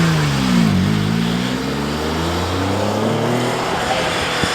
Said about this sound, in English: we were driving around in a Ferrari SP2 just rolled by